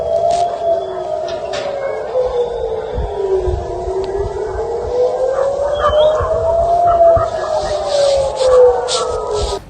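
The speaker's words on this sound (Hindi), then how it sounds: "आपको सिर्फ सायरन की आवाजें सुनाई देंगी।" An air raid siren in Israel wails steadily, its tone rising and falling slowly in long sweeps, with faint background noise and scattered distant sounds.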